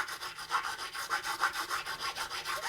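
A metal file rasps across a guitar fret during fret leveling and crowning, in quick, evenly spaced strokes at close range, fairly quiet and alone.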